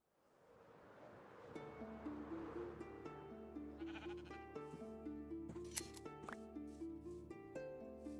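Sheep bleat in a video game, heard over steady background music with several overlapping tonal calls through the middle and a sharper call near the end, moderately loud.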